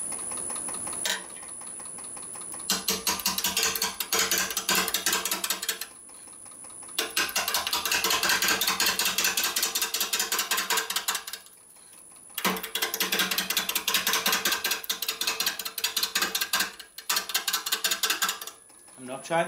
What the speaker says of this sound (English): Switch the lathe on, move the tool rest away, and then just ease it into the cut